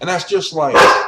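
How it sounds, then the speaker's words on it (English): A dog barks loudly and sharply near the end, close by and partly overlapping someone talking over it. "sorry for the dog"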